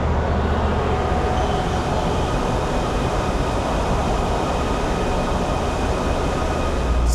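A Miami Metrorail orange line train runs loud and steady, a constant broadband rumble and rail roar with no break or talk throughout.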